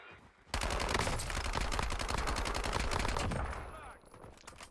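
A TAC 56 rifle fires in rapid full-auto bursts in Warzone, a dense, loud rattle of shots that runs for about three seconds and then stops.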